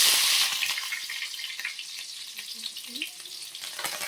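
Onion pieces and mustard seeds frying in hot oil for a brinjal pakodi curry, a steady close sizzle with a louder burst at the start, then a softer continuous crackle with faint stirring.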